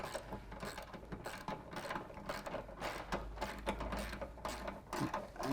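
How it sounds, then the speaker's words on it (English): A wrench ratchets on a bolt while steps are fitted to a 2015 Jeep JK, giving a steady run of close mechanical clicks in short bursts, with no voices. "Same thing, just get the wrench back there,"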